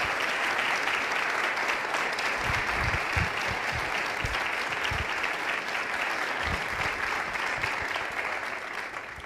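A concert audience applauds musicians at a sacred spring concert, steady dense clapping filling the hall for the whole stretch and fading slightly at the end.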